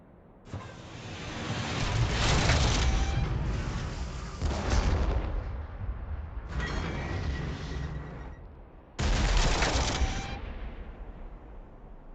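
Sustained gunfire and rumbling battle noise fill a Warhammer 40k Armageddon video game, loud swelling volleys that cut off abruptly and restart in separate blocks.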